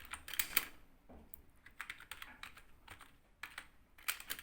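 Quiet, close-up typing on a computer keyboard while writing in Microsoft Word, irregular clusters of soft key taps with brief pauses between them, faint and alone without talk.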